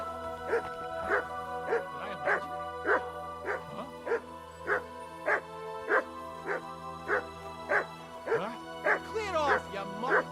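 Repeated dog barks in Kingdom Come: Deliverance II, a steady run of about a dozen sharp yaps roughly a second apart, loud and close over a low game backdrop.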